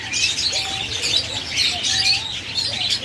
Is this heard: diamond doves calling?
yes